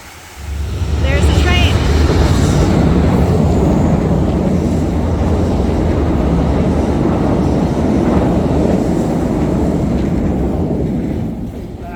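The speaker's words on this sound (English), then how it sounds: "There's the train." A train rolls past the Kingston Mills Locks on the Rideau Canal, a loud steady rumbling roar that swells early and holds for about ten seconds before easing, with voices talking over it.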